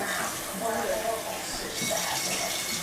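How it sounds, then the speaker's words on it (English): Water pours from a tap into a mixing bowl while brownies are being made at home, a steady splashing run of about three seconds with a voice speaking over it. "So I'm going to put 1/4 cup of water."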